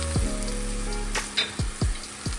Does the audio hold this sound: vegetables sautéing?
yes